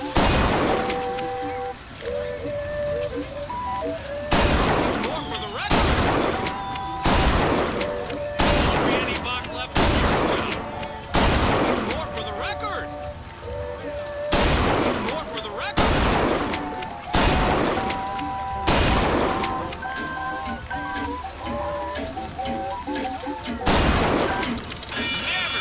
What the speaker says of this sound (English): You get a bit of a taste of the shotgun.